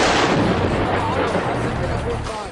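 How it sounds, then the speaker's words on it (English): Heavy artillery shelling in Syria, captured as news footage: dense, continuous rumbling blasts and crackling impacts that stay loud throughout, with no clear gaps between the bursts. "Dozens killed in Syrian shelling amid anger over UN veto."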